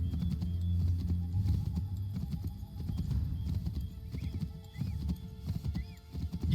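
Horse hooves clip-clop steadily through a historical video game set among Redcoats, rhythmic and fairly close over a low rumbling game soundscape, with occasional whinnies and no talking.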